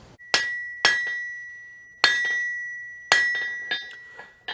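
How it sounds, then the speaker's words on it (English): A hammer strikes hot steel on an anvil while forging a straight, even taper, giving four main bright, ringing blows with lighter rebounds and taps between them, close and alone with no talk. "My hammer is going to match that angle as I turn, and it's going to forge out a nice straight even taper"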